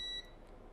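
A multimeter in continuity mode gives one short, high electronic beep while probing a shorted capacitor on a mobile phone circuit board, then falls to a faint, quiet background.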